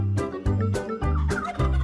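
A turkey gobbles in repeated rapid bursts, several loud, close gobbling calls running back to back with brief gaps between them.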